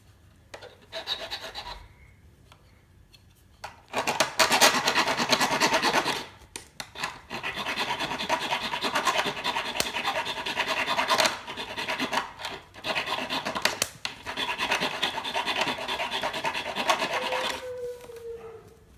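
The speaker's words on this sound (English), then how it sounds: "So this part is all jagged at the moment. So I'm going to just sand it down." Sanding the jagged cut end of a tent pole, long steady abrasive rasping strokes that run continuously for many seconds with brief pauses, close and loud, no voices.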